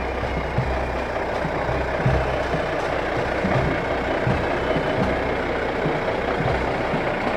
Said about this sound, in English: Military camouflage vehicle.